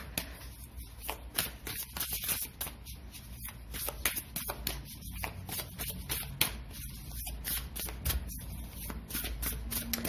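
Tarot cards are shuffled and drawn by hand: a dense, continuous run of crisp flicking and riffling close to the mic, with no talking.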